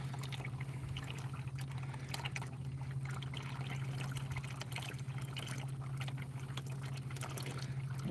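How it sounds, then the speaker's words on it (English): A milkshake machine pours liquid steadily into a baking pan, a continuous close pouring and trickling wash with a low steady hum underneath and no talk. "This baking pan's filling up quick."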